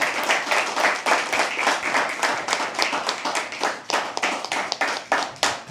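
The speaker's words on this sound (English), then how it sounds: "Keep clapping till he comes on stage." Audience applause at a live poetry open mic, steady dense clapping from many hands that carries on throughout, close and lively, with no talking over it.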